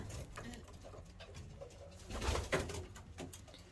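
Racing pigeons on perches in a loft give soft, low cooing, a few muffled coos under quiet room noise with faint rustling.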